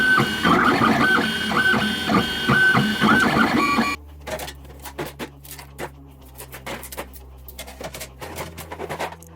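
A 3D printer printing RC car parts: a loud whirring, tonal motor hum for several seconds, then quieter bursts of rapid ticking and clicking movements.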